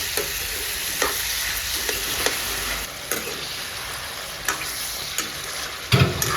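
A vegetable bhaji of bitter gourd fries and sizzles in a pan with a steady broadband hiss, while a spoon stirs it and scrapes the pan in irregular clicks and knocks. There is no voice.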